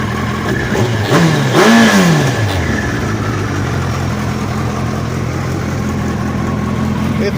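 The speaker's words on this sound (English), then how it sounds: "It's got the Yoshimura full exhaust." Suzuki Hayabusa motorcycle fitted with a Yoshimura full exhaust, idling with a steady low rumble and then giving a single quick rev that rises and falls, nearby and fairly loud.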